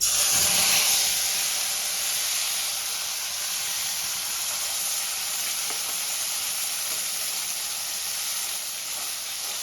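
Paste of two boiled medium onions sizzles in a hot pan, a loud burst as it hits the oil settling into a steady, close frying hiss with no talking.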